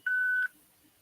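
A single steady voicemail beep sounds on a phone call, a clean electronic tone lasting under half a second, followed by quiet line noise.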